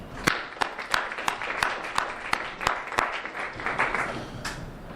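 Applause at a city council community meeting, a modest group clapping in a room with a few sharp, distinct claps standing out over a softer, thinner patter.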